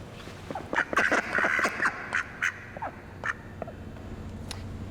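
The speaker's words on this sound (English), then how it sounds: "You ready to quack for science?" Several ducks quack in an echoey room, a burst of loud overlapping quacks followed by scattered single calls that fade, with room reverberation and no talking.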